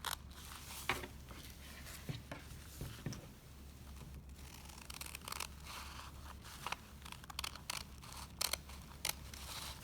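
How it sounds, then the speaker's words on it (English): Scissors cut through a paper papel picado flag along a template, giving repeated close, crisp snipping and crinkling paper sounds at an irregular pace, fairly quiet, with no talking. "So next I'm going to go ahead and cut out the actual flag."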